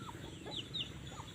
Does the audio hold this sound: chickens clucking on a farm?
yes